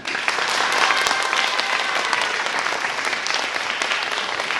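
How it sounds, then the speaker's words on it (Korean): An audience at a magic show in a middle school applauds steadily and loudly throughout, a dense wash of clapping with no pauses. "오늘 여러분들이 이렇게 저의 노력에 대해서 박수로 답해주셔서"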